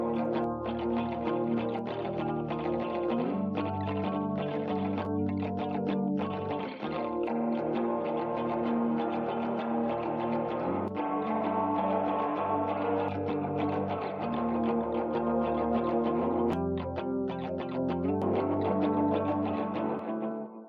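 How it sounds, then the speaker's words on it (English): Echo and reverb plugin presets on a dense, continuous musical loop with sustained harmonic layers and repeating rhythmic hits, loud throughout with a washed, effected tail. "it's a combination of echoes and reverb."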